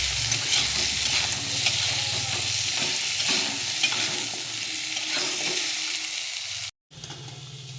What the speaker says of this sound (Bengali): নুন হলুদ দিয়ে ভালো করে ভাজবো।